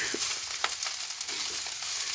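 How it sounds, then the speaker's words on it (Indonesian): Egg fried rice sizzling in a hot pan, a continuous loud hiss with several scraping stir strokes breaking through, close and alone without talk. "Berapa lama digoreng begini?"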